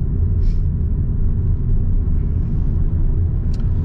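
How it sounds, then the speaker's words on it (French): A Ford Focus 2.0 16V 145 hp petrol engine drones steadily at low pitch with a heavy rumble, accelerating hard in third gear under load without any voices. "là je fais mon accélération en 3e"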